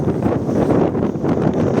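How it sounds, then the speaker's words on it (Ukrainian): Strong autumn wind in Truskavets buffets the microphone in a steady, loud roar with gusty rumbling throughout, no voices present. "ви чуєте, який вітер"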